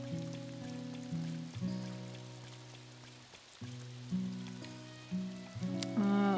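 Steady rain hisses across the whole scene in Doraemon Story of Seasons: Friends of the Great Kingdom, a farming game, running continuously beneath stepping melodic game music.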